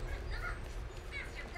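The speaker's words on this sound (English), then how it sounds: "You can see the crows." Crows in the video game Apex Legends, with several raspy caws over a low rumbling background, fairly faint and brief.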